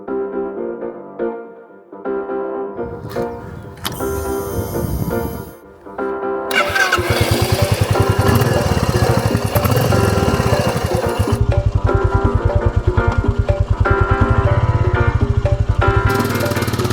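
A Royal Enfield Meteor 350 motorcycle engine fires up after some brief scattered sounds, then settles into a loud, close, steady thumping idle that runs to the end.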